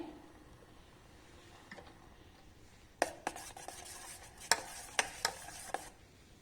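A mango pudding mixture is stirred in a pan over a medium flame: a quiet faint simmer at first, then sharp scrapes and taps of the spoon against the pan at irregular intervals.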